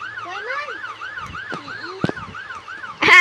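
A police car siren wails close by in a fast, regular up-and-down yelp that repeats steadily, with faint traffic underneath and a sudden rush of noise at the very end.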